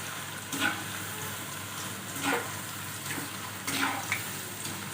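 Snacks deep frying in hot oil, giving a steady close hiss and sizzle with occasional louder bursts as the pieces are stirred, with no talk.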